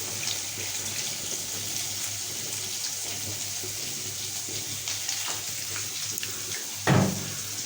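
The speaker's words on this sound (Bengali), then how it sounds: "তখন দিয়ে দেবো ঝোলের পানি।" Water pours into a pan of sizzling potato curry, a steady hissing sizzle running throughout with a brief louder splash near the end.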